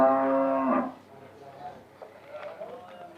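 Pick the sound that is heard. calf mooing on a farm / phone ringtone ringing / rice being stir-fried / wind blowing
calf mooing on a farm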